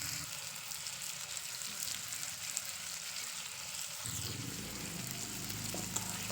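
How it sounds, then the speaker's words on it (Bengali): Potatoes with salt and turmeric frying in oil in a wok, a faint, even sizzle holding steady throughout, with a slight change in texture midway and no voices. "এবার আলুটাকে লালচে করে ভেজে নেবো"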